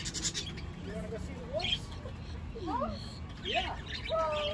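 Birds inside an enclosure at a flea market, scattered chirps and squawks of varying pitch near and far over quiet background murmur and shuffling.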